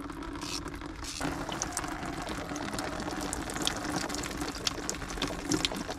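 Antifreeze coolant poured into a car's cooling system, a steady gushing, splashing liquid flow running continuously and fairly close, with a brief shift in tone early on.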